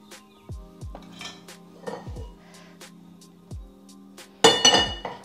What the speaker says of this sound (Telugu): ఒక ప్యాన్ తీసుకొని అందులో కొంచెం ఆయిల్